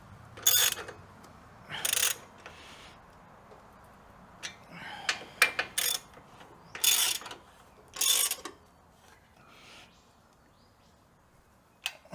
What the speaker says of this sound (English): we'll crank her up with the ratchet straight after